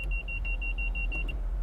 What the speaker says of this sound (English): then the beeping begins again